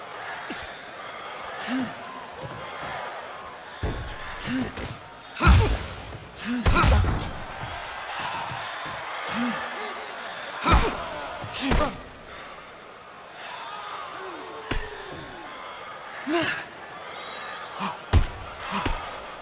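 Punches thud in a 1993 boxing match between Bernard Hopkins and Roy Jones Jr, sharp slaps and thumps landing in scattered bursts and pairs over a steady crowd murmur, with occasional gasps and grunts.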